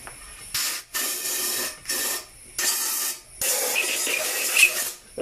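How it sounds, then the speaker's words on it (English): Compressed air from a blow nozzle hisses in five short bursts, clearing metal shavings from a workpiece. The blasts are close and loud, separated by brief pauses, and the last burst runs longest. "Get the blow nozzle."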